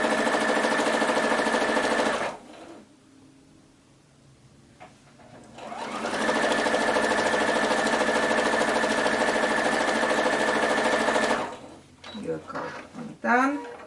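A sewing machine runs in steady stitching bursts while sewing a tumbler-block baby quilt, loud and close, with a short pause in the middle and a voice briefly speaking near the end.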